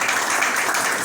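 Thick, steady clapping from a crowd at a DRC political rally for federalism fills a short moment, loud and unbroken.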